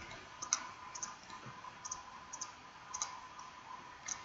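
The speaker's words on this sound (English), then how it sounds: "right click to create that" Sharp computer mouse clicks at a desk while drafting in Autodesk Inventor, a handful of crisp, evenly spaced single clicks close up against quiet background.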